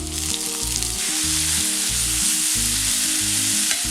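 Two large tomatoes frying in oil with browned onions for Kerala kadai chicken, a loud, steady sizzle running the whole time alone, with no talk.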